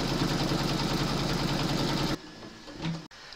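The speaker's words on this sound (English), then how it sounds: "Pop your hoop into your machine and stitch round number 8 to secure it." An embroidery machine stitching a round on a hooped quilt panel, running with a fast steady mechanical whir and needle rattle for about two seconds before stopping abruptly, followed by faint handling noises.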